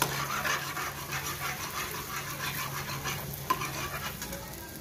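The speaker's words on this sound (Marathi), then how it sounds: "कढईत इतकं तेल कमी असूनही पुऱ्या बघा किती छान अशा टम्म फुगत आहे." Puris deep-fry in a little oil in a kadhai, giving a continuous, even sizzle and bubbling at moderate volume with a faint clink partway through; no talking.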